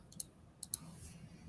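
Two pairs of sharp, quiet mouse clicks sound close by, one pair early and one pair about half a second later, against a near-silent background.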